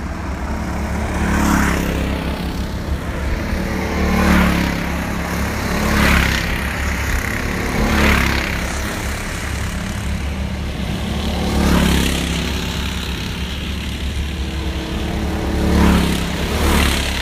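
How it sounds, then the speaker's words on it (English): Go-karts race around an outdoor track, their small engines buzzing and swelling in repeated pass-bys roughly every two seconds over a constant loud drone, with no talking. "you can actually see how quick the carts are going"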